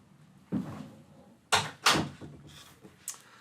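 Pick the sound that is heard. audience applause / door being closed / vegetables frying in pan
door being closed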